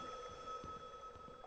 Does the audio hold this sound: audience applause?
no